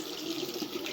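Tap water runs steadily into a container, a constant close splashing stream with a slightly hollow filling tone, moderate in level and without talk.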